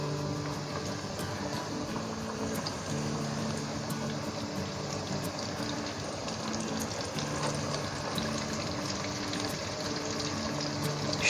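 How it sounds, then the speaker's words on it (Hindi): Chicken wing pieces deep frying in hot oil, a steady dense sizzle and bubbling that runs without a break at moderate level, with no talk over it. "ऑयल मैंने गर्म कर लिया था तो ये बिस्मिल्लाह करके हम अपने जनाब पीसेस डालते हैं इसमें"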